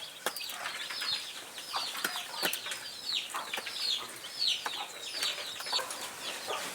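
Free-range Kienyeji chickens in Kenya, a rooster feeding with his chicks, give off soft clucks and peeps with brief wing flaps, fairly faint and steady throughout, outdoors with no talk.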